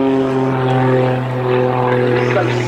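A Pitts aerobatic biplane's propeller engine drones loudly and steadily during an airshow display at RAF Cosford, with a strong harmonic buzz and a commentator's voice faintly underneath.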